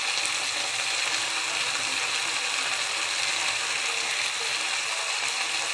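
Spices sizzling steadily in hot oil in a pan as cluster bean curry gets started, turmeric and homemade masala going in; a dense, even frying hiss holds close and constant with no talking.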